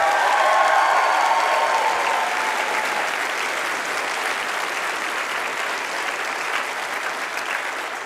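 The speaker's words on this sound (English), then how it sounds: "Big round of applause for Dan here" Sustained applause from a studio audience cheers a game show contestant, dense and steady throughout, loudest at the start and tapering slightly toward the end, with no voices over it.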